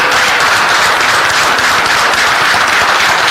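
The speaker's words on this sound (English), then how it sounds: "Give them a round of applause." An audience at a transportation committee meeting breaks into loud, dense applause, steady and continuous with no talk over it.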